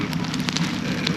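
Steady rain hissing across a sailboat's surfaces, with a low rumbling undertone and scattered brighter drop-like taps throughout.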